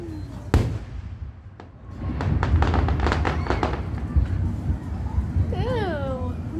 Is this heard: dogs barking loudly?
no